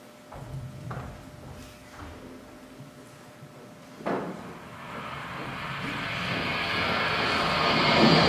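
An airplane engine sound effect in a high school theatre stage play: a broad, rushing roar that swells and grows steadily louder over several seconds, preceded by a few faint knocks and shuffles.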